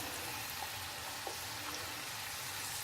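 Plantain slices frying in oil, a steady soft sizzle of bubbling fat holding an even level throughout with no voices.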